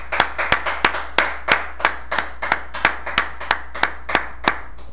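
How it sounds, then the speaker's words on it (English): A single person claps for technical analysis in a steady, slow rhythm, about a dozen sharp, close, evenly spaced hand claps with nothing else around them. "A round of applause for technical analysis."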